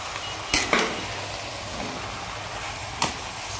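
Fish and bottle gourd with salt and turmeric are stirred in a pan over a steady low sizzle, with a couple of sharp utensil clanks against the metal standing out.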